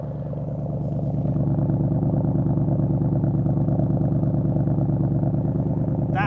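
An Audi RS6 with an aftermarket exhaust runs rough at idle, giving a loud, steady, lumpy throb with an uneven pulsing beat that swells after the first second, plus a brief sharp noise at the very end.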